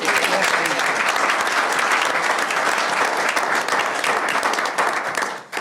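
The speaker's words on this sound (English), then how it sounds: "So I think we should clap." School board meeting audience giving steady, fairly loud applause to nutritional services staff, many hands clapping together before tapering off at the end.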